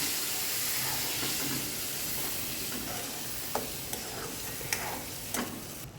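Tomato gravy with asafoetida sautéing in a pan, a steady close sizzle and hiss with a few sharp spoon clinks against the pan near the end.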